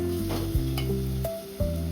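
Konkan-style dried fish roasting and being sautéed in a pan produces a close, loud sizzle over a steady hum, with a few brief scraping and clinking stirring sounds and no speech.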